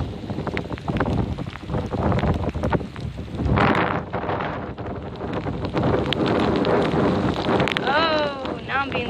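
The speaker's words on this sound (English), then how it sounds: "The raindrops are coming sideways, which means the wind is strong." A strong, frigid storm wind buffets the microphone in a steady roar, with rain driving sideways and pelting throughout; a voice speaks over the gusts near the start.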